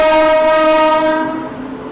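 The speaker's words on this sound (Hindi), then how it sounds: "यहाँ पे मालवा एक्सप्रेस का अराइवल हो रहा है" The Malwa Express sounds a loud, sustained horn as it arrives, the rich tonal blast holding steady before fading over about two seconds.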